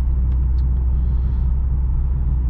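A BMW M440i Convertible cruises in comfort mode, heard as a steady low road rumble and engine drone from inside the cabin. The sound is continuous and even, with no talk.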